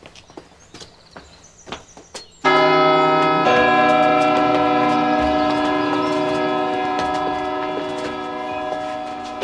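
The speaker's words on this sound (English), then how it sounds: "Now ring the doorbell." A doorbell at a rich house in a 1992 comedy gives a loud, sustained ringing chime that starts suddenly after a few faint knocks, then rings on steadily and fades slowly.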